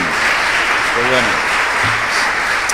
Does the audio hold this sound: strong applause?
yes